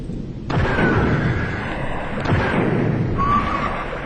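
An explosion in the underwater strategy game X-COM: Terror from the Deep, heard as a loud, rumbling blast that hits abruptly, followed by a second burst and a long noisy roar that slowly trails off.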